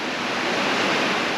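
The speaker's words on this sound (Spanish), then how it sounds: "Ese ruido que se escucha es la lluvia." Steady, dense hiss of rain pouring down in Laos, a continuous wash of noise with no voices.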